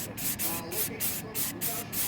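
Spray paint hissing from a can in repeated short bursts separated by brief gaps, close and fairly loud, used for a crackle-finish decorating project.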